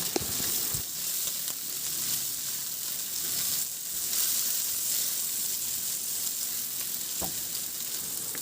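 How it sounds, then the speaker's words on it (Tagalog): Garlic and ginger sautéing in a little hot oil in a pan, a continuous bright sizzle with occasional small pops and clicks, close by and moderately loud. "Magpainit na ako ng kunting mantika sa kawali at igisa ko na rin yung bawang at luya."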